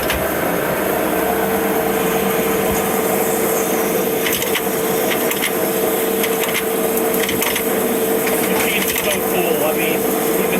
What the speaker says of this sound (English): One of my Brown and Sharps. And it's kicking out carburetor parts.